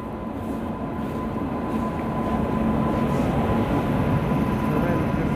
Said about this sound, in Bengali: এই ট্রেন বেরিয়ে যাচ্ছে কাঞ্চনকন্যা